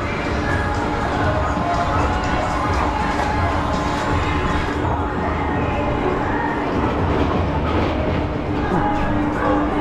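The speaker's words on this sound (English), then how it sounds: "How was the mine train, Claire?" Mine train family roller coaster at Botton's Pleasure Beach in Skegness, running on its third lap. A continuous rattling rumble of the cars on track mixes with distant crowd noise and voices throughout.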